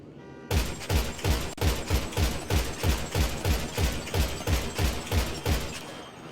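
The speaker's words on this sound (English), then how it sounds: "Marksman rifle, you can shoot very fast." Explosive rounds from a marksman rifle in GTA 5 fire in a fast, steady volley of about fifteen loud, punchy shots, evenly spaced and continuous, with no talking.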